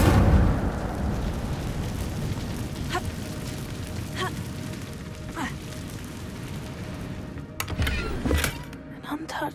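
Incendio fire spell cast in Hogwarts Legacy inside a cave: a rumbling burst of flame that fades into a crackling hiss, followed by a few sharp pops and a louder flare near the end.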